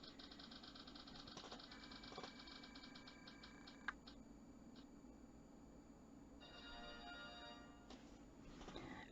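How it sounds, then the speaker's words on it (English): Online prize spin wheel ticking as it spins, a quiet run of rapid clicks that slow and space out, then a second flurry of ticks later, faint over a low steady hum. "So the spin wheel is on."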